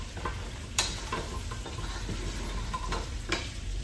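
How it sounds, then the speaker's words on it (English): Meat frying in a pan for a homemade stew, a steady broadband sizzle with a few sharp clinks of a utensil stirring, close and alone without talk. "So I'm gonna fry my meat a bit."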